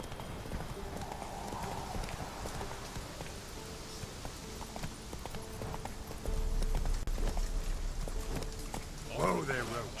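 Roach, a horse in The Witcher 3: Blood and Wine, clip-clops along with continuous hoofbeats that grow louder partway through. Game ambience and a brief whinny-like sound come near the end, and a voice talks over it.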